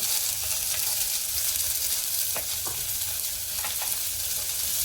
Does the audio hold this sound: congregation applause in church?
no